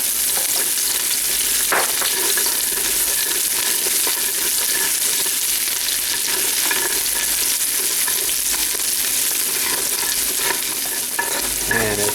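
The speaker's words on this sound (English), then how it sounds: "And it's not taking long to cook the onions, that's for sure." Onions fry in a cast iron pan with a constant close sizzle, punctuated by scraping and stirring sounds throughout, with no voices.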